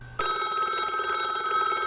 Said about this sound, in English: It's a bat phone.